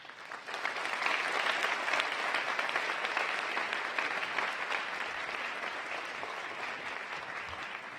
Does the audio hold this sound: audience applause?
yes